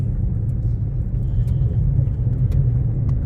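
A Ford Mustang GT350 rumbles deep and steady from inside the cabin while driven in a low manual gear with light throttle, a constant close engine drone with no talk.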